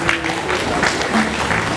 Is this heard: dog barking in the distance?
no